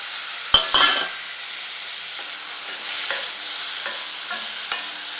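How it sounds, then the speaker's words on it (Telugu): Ginger, garlic cloves and cashews fry in a pan with a steady sizzle, broken by a few sharp stirring scrapes near the start and lighter clinks of the spoon after that. "అల్లం, నెక్స్ట్ వెల్లుల్లిపాయ రెబ్బలు, ఒక 6-7 జీడిపప్పు, ఇవన్నీ కలిపి మనం అయితే ఇప్పుడు కొంచెం అయితే ఫ్రై చేసుకోవాలి"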